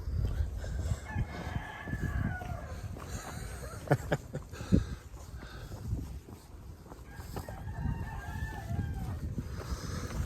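A rooster crows faintly in the distance, drawn-out calls rising over steady rumbling background noise and a few sharp knocks.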